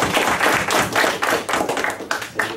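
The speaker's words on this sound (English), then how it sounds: "let's have a round of applause" Close, loud clapping in uneven bursts, a handful of people clapping together with thumpy, irregular rhythm.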